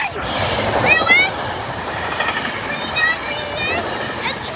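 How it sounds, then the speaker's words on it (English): A train pulls into the station at Elkins with a loud, close rumble and rolling wheel noise, high metallic wheel squeals rising and falling over it throughout. "Look at this first train coming into our force."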